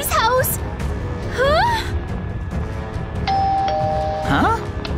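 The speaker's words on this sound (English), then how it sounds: "It's ringing the doorbell!" A Minecraft doorbell chimes a steady ding tone partway through, nested among excited voices and squeaky gasping exclamations that rise and fall around it.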